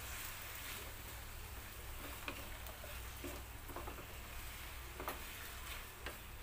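Chicken is stirred in a single pan, giving a faint, continuous sizzle with light scraping ticks from the stirring, quiet and close.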